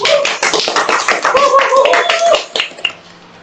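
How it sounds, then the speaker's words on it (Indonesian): A group claps for Arhena, a student at MA Binajaya selected for the Palembang city Paskibraka, during a school interview. The clapping is close, dense and fairly loud for about 2.5 seconds, with voices mixed in, then thins to scattered claps. "Tepuk tangan dulu dong untuk Arhena."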